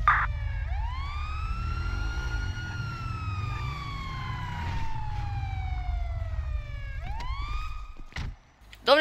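A police car siren wails close by in a GTA game, sweeping slowly up and down in long loud tones over engine rumble, then restarting with short whoops near the end.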